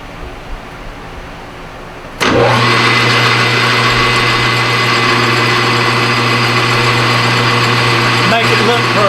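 A metal lathe cuts rust and grime off a trailer part, starting abruptly after a quiet couple of seconds, then running as a loud, steady machine whir with a constant humming tone for the rest of the clip.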